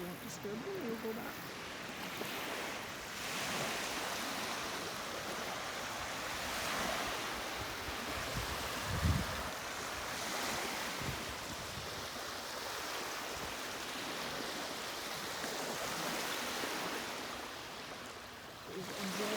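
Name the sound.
waves washing onto a beach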